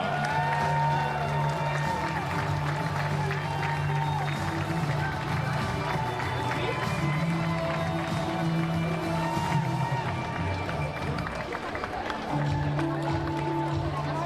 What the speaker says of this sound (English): a big round of applause for the national team of the United States of